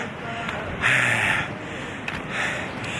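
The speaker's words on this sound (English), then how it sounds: "And I'm already panting" Heavy, loud breaths of a climber on the way to Stok Kangri base camp, close to the microphone, two strong exhales separated by quieter breathing, with wind in the background.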